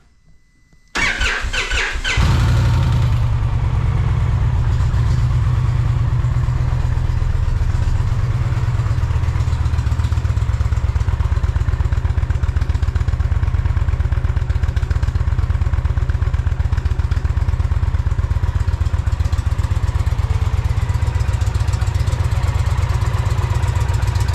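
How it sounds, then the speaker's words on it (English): An Indian Challenger motorcycle fitted with a Freedom Performance chrome exhaust with a black tip cranks briefly, fires up loudly and settles into a deep, steady, throbbing idle that continues close by to the end. "It is a chrome exhaust with a black tip on it. So we'll start it up, see what it sounds like."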